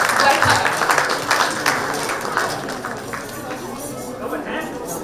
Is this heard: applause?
yes